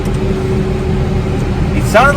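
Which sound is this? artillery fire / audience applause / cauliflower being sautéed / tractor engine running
tractor engine running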